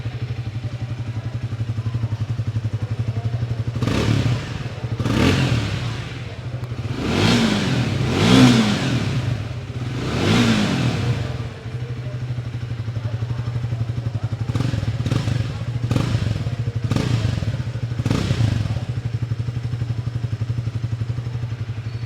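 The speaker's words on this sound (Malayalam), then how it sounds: "കുറച്ചുകൂടെ കാമറായിട്ടുള്ള ഒരു എക്സോസ്റ്റ് നോട്ടാണെന്നാണ് അവർ പറയുന്നത്." Triumph Speed 400 motorcycle with its 400cc TR-series engine idling steadily, then revved again and again in sharp blips, a run of four or five longer pulls followed by several quicker ones, loud and close.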